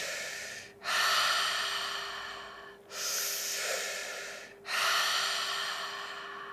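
Deep, slow breaths during guided breathwork, three long airy inhales or exhales in a steady rhythm, close to the microphone over a faint constant hum, with no talking.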